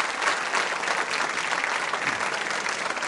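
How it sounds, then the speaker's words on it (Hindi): An audience claps at a school quiz show, a steady dense round of applause that carries through evenly at moderate loudness with no voices over it. "तालियां जोरों से बजाइए इनके लिए आप।"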